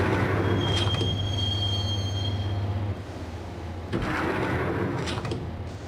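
A subway train rides through the tunnels in the video game Max Payne, with a loud steady rumble, a long wheel squeal that fades, and a rushing surge near the end.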